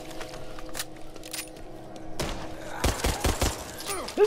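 Pistol shots ring out in the zombie shooter Back 4 Blood, a few sharp cracks early on, then a quick burst of closely spaced shots amid game noise.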